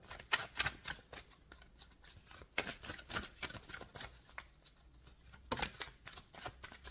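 Tarot cards being shuffled and drawn during a reading, a soft papery riffle of repeated brisk flicks and slides, close and fairly quiet, with no talk over it.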